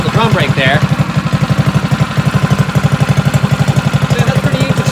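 A drift trike's small engine idles close by with a fast, steady, pulsing putter, and someone talks over it near the start.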